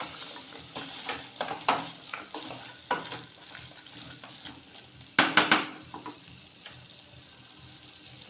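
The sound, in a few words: stirring sprouted chickpeas in a pot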